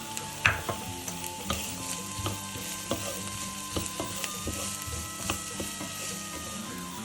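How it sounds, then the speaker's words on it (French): Chopped onions with red and green bell peppers sizzle steadily in a frying pan for chili con carne, a constant crackling hiss broken by occasional utensil taps and stirring scrapes, close and without any talking. "Et je fais revenir le reste des oignons"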